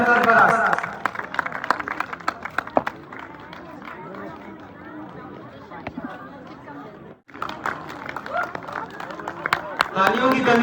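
Audience applause at a school annual day prize announcement, a patter of clapping from a seated crowd under steady chatter and a voice on a microphone, swelling louder near the start and end.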